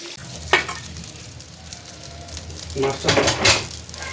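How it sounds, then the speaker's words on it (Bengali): Leftover rice fried in a pan with egg, onion and chilli sizzles steadily up close, with bursts of stirring and scraping against the pan growing busier toward the end. "ভাজা ভাত"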